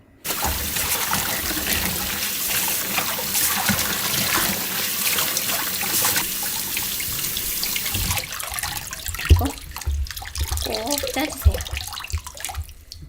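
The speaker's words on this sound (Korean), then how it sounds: "흐르는 물에 씻어오겠습니다." Tap water runs steadily as blanched vegetables are rinsed under it at a kitchen sink. The loud, close gush continues throughout, with a few clattering handling sounds toward the end.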